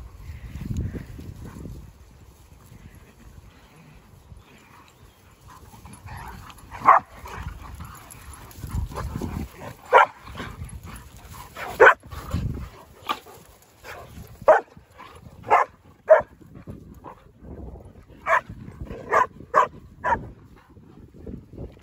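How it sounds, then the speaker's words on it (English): Dalmatians and a German longhaired pointer barking while playing in short, repeated bursts, with scuffling and low growly noises between them, fairly close and getting busier toward the end. "I guess, like, really annoying,"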